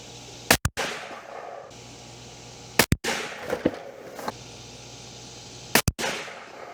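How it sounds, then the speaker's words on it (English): A rifle fires 160-grain Remington copper-tipped rounds outdoors: three sharp, loud reports spaced a few seconds apart, each a quick double crack followed by a brief decaying tail. "Next is going to be the 160 grain Remington cut stuff, copper tipped."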